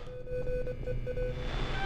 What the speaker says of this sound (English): It's doing some Morse code thing.